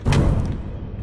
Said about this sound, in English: Big explosion going on there